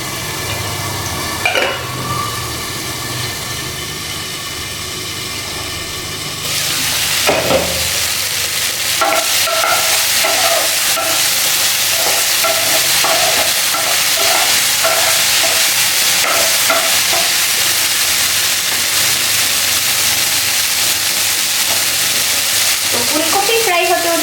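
Cauliflower florets frying in oil in a pan for a Bengali chicken and egg curry, a steady broadband sizzle that swells louder after a few seconds, with occasional stirring clicks and scrapes, close and continuous with no talk.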